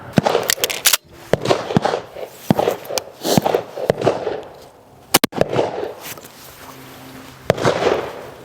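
Cheap 12 gauge shotgun loaded with 00 buckshot fired outdoors, a few sharp loud blasts spaced several seconds apart, with rustling and handling noise between shots.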